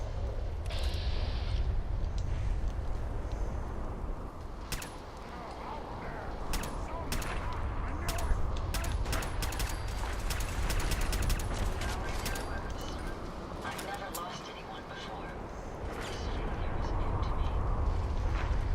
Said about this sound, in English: I can hear explosions.